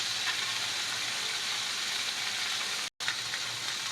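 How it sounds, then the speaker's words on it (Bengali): Vegetables seasoned with salt, turmeric and cumin powder fry in a pan for a small-fish chorchori, giving a steady, even sizzle that runs unbroken apart from one brief dropout near the end, with no talk. "এই নিয়ে আমি সবজিগুলো ভেজে নেব"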